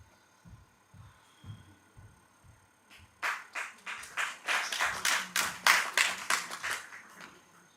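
Clapping from a group of people, starting after a few soft low thumps and quickly building into steady, loud applause with rapid, overlapping claps that continue to the end.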